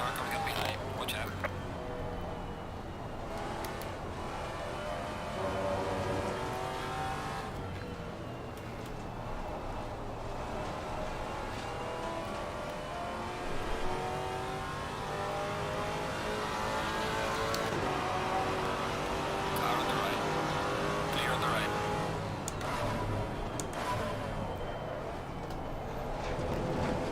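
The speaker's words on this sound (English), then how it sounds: "Faster car coming up behind." Race car engines in Assetto Corsa Competizione at Watkins Glen, including a Maserati, droning and revving continuously with rising and falling pitch as gears change, loud and steady throughout, while someone talks over them.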